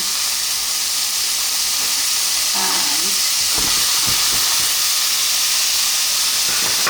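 Zucchini noodles hit a hot pan and sizzle with a loud, steady steam-like hiss, broken midway by a few soft clatters of the pan.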